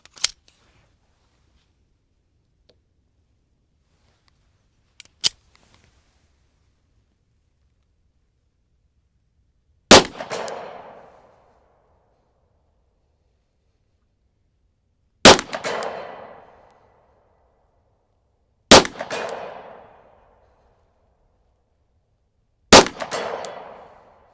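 A SIG P365 Fuse pistol fires Federal 115 grain rounds, four sharp loud shots spaced several seconds apart, each with a short ringing decay, after two fainter clicks.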